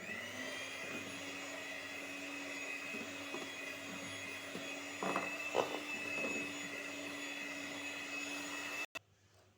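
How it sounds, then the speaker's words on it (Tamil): An electric beater whirs steadily through a chocolate ice cream mixture, a close, even high-pitched motor drone with brief louder scraping bursts midway, stopping abruptly near the end. "இப்போ இதை வந்து பீட் பண்ணிக்கோங்க."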